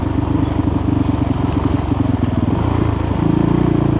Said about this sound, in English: always pick the opportune times to stand up and hit your throttle, Keith.